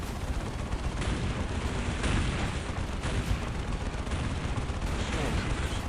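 Lasgun volleys crackle without pause during a 2v2 Dawn of War battle against the Steel Legion, a dense, steady barrage of overlapping shots and blasts with faint voices beneath.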